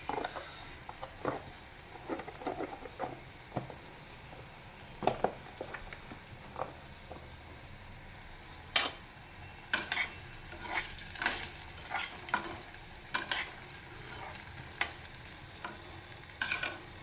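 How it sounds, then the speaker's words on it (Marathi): Food fries until crisp on a low-to-medium gas flame, a faint sizzle broken by irregular clicks and scrapes of a utensil turning the pieces, growing busier and louder toward the end. "लो टू मीडियम गॅसवर या छान अशा खरपूस फ्राय करून घ्यायच्यात आपल्याला."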